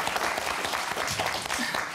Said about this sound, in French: Allez, on applaudit Pierre et Nadia.